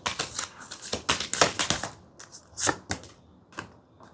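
Tarot cards handled and shuffled up close, a rapid run of crisp flicking riffles followed by a few sparser taps and slides, fairly quiet with no talk over it.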